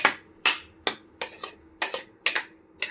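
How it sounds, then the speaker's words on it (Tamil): A spoon stirring cooked bottle gourd with moong and chana dal in a pot, sharp knocks and scrapes arriving about every half second, close and clear with no talk. "நல்லா மிக்ஸ் பண்ணிக்கோங்க."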